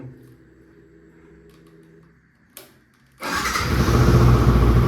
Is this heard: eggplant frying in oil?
no